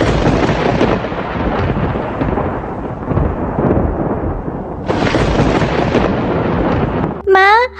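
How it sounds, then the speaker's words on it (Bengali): Loud, steady roar of heavy rain with rumbling thunder in a cartoon storm, swelling again midway, then cut off by a short burst of rising, musical tones at the very end. "বাইরে কত জোরে জোরে বৃষ্টি হচ্ছে, কি জোরে জোরে বিদ্যুৎ চমকাচ্ছে।"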